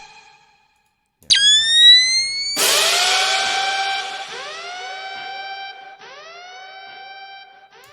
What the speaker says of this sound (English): what's here is a Kill Bill siren. You know that classic, the classic Kill Bill siren.